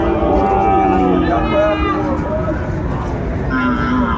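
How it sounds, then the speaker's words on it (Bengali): Sahiwal bull calves, four to seven months old, at a cattle market in Dinajpur. Drawn-out low moos and bellows rise over a loud, busy market din, with people talking nearby throughout. "শাহিওয়ালের ষাঁড় বাচ্চা"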